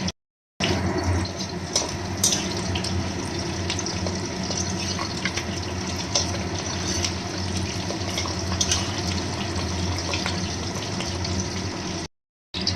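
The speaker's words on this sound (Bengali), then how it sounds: "তেলটা গরম হয়ে গেছে মাছের ডিমগুলি কড়াইতে দিয়ে দিয়েছি ভাজা হচ্ছে" Large pieces of catla fish roe fry in hot oil in a wok, giving a loud, steady, close sizzle that runs almost unbroken for about eleven seconds between brief silent gaps at the start and end.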